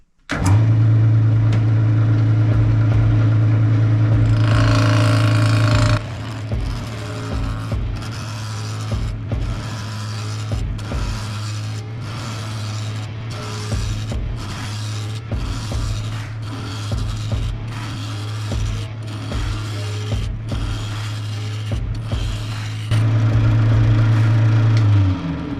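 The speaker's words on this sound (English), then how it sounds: "put the tailstock to it, got it spinning. I'm gonna sharpen up my chisel and start roughing it out." A wood lathe spins a blank of Osage orange with a steady loud hum while a chisel roughs it out, knocking in a fast, regular rhythm of sharp ticks as the uneven wood meets the edge.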